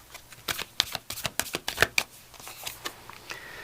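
Oracle cards being shuffled by hand in a quiet close-up ASMR tarot setting, a run of crisp papery riffles and taps with irregular rhythm, no talking.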